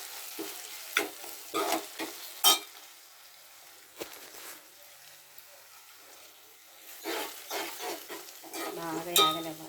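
Onion and green chilies frying in a pan on the stove, with intermittent stirring scrapes and a light sizzle, close and moderately loud, with a pause in the middle before more scraping.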